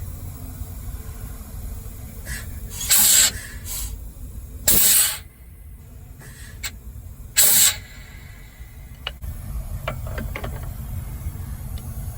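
Sharp bursts of air hiss from the DD3 brake chamber on an MCI MC5a bus as the brake is applied, heard three times over a low idling rumble with faint mechanical clicks between them.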